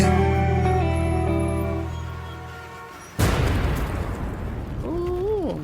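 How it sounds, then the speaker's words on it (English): An explosion in a music video strikes suddenly midway, a loud broadband burst that rumbles and decays into noisy debris after a musical passage with sustained tones, with a wavering voice-like tone rising near the end. "And an explosion."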